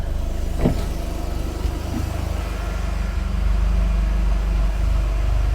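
A Mk2 Golf with a 20v turbo engine conversion idling steadily nearby at warm-up, a constant low engine drone with a brief clank early on and a slight rise in level partway through.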